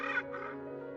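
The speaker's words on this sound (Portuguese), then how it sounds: "Passarinho." A bird gives two short, rough, cawing calls close by, each a brief harsh burst in otherwise quiet surroundings.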